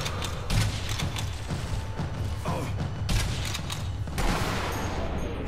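Gunfire in Sniper Elite V2, a war shooter, with several sharp broadband shots and bursts spread across the stretch amid mechanical rattles and background game noise.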